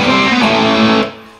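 Electric guitar driven through a Beyond Tube Booster, a vacuum-tube boost pedal turned up into overdrive, rings out one loud, thick distorted chord that sustains for about a second and then fades. No voice.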